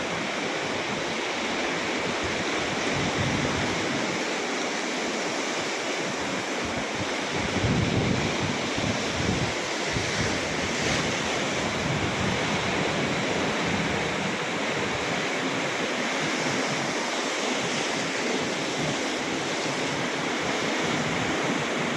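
Big ocean waves whipped up by a typhoon crash and roar continuously along the shore, a loud unbroken wash of surf mixed with heavy wind buffeting the microphone, with no voices.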